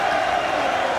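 Boxing arena crowd at the Odyssey Arena, a steady, dense roar of many voices filling the hall, loud and continuous with no breaks.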